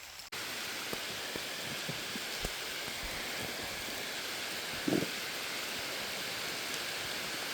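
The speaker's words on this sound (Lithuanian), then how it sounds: "Lietus užklupo netikėtai." Steady rain pours down outdoors on a fishing trip under trees, a dense even hiss with a few sharper drops and one brief louder knock midway, no voices.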